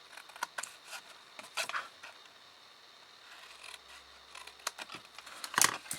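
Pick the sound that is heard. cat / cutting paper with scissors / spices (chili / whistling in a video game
cutting paper with scissors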